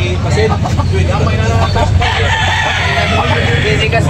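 Roosters for sale at the Tabunok chicken market in Talisay, Cebu crow over a busy background of traffic and crowd noise while people talk nearby.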